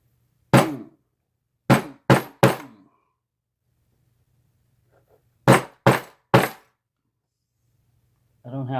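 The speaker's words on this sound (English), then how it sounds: "I need to beat on it some more." Sharp metallic hammer strikes on a Lockwood 225 wafer lock ring out in two quick clusters of three or four blows, separated by near silence, before a voice starts speaking.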